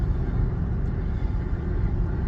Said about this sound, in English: I'm sorry about the window noise, but I couldn't stand to roll the window all the way up